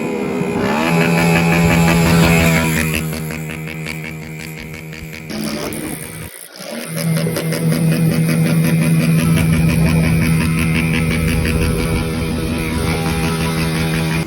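A Honda Pop 110i motorcycle engine with a strange noise runs loud and close, a buzzing, steady idle-like drone with a rattling edge that briefly drops out and then resumes for a long stretch.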